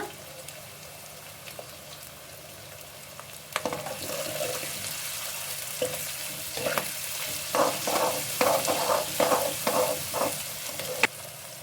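Chopped onions and capsicum frying in a pan for egg rice, a quiet sizzle at first, then a run of rhythmic scraping and stirring strokes against the pan that grows louder toward the end.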